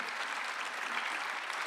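A church congregation applauds during a Sunday worship service, a continuous mid-level patter of many hands clapping together, steady and unbroken with no speech on top.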